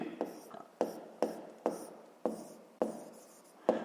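Pen strokes on paper while an inequality is written out by hand for a fifth-grade math exercise, a series of short scratchy marks in a steady rhythm, close and soft.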